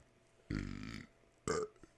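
A single loud, close burp lasting about half a second with a rough, buzzing texture, followed after a short pause by a second, briefer belch in otherwise quiet surroundings.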